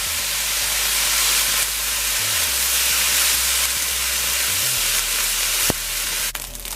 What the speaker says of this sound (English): I'll add the soy sauce.